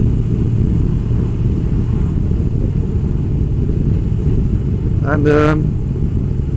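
Moto Guzzi Breva V1100 motorcycle cruising in sixth gear at about 40 mph, a steady low engine rumble mixed with wind buffeting throughout, with a brief tonal whine near the end.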